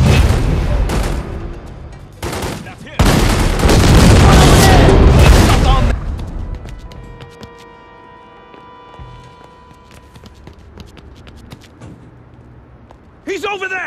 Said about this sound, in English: I love watching a bomb go off.